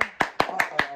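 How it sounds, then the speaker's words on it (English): Hand clapping during a Gang Beasts gaming session, six sharp claps evenly spaced about a fifth of a second apart, close and fairly loud, with faint background voice. "Clap it up, bro."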